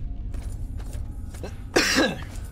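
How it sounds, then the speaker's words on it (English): A person coughs at night, a few short muffled coughs followed by one louder, harsher cough near the end, close to the microphone over low background hum. "Oh man, cough is bad tonight."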